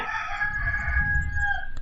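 A rooster crows once, a loud, close, drawn-out cock-a-doodle-doo lasting nearly two seconds over a low rumbling background.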